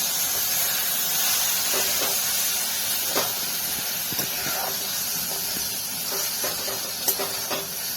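Tomato bhaji steaming in a covered pan gives off a steady, soft hiss throughout, with small faint pops and ticks scattered over the continuous noise.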